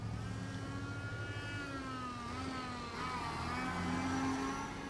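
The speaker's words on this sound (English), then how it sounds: "You can hear cars racing down the street." Several video game car engines rev and whine at a distance, pitch sliding up and down as cars race down a street, steady and fairly faint.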